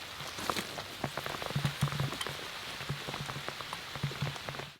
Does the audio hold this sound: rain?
yes